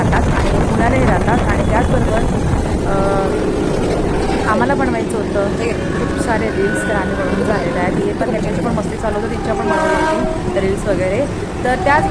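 A train rumbles along steadily with rattling carriages, while several people chat loudly over the noise.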